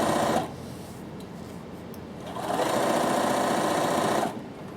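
A Bernina sewing machine stitches binding around a top's neckline, its steady motor whir running in two bursts separated by a quieter pause.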